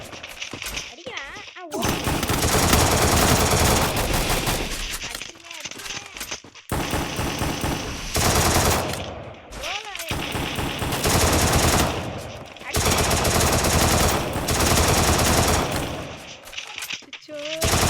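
Rapid automatic gunfire from the mobile battle royale game Free Fire Max fills most of the stretch, with loud, dense bursts broken by brief pauses and a few short gaps of quiet.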